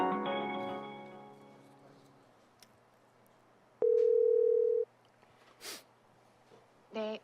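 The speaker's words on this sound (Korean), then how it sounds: "지금 연결하고 신호음이 가고 있습니다" A telephone ringback tone on a call to a reporter during a Korean radio news program: one steady electronic tone of about a second, with faint background noise before and after it.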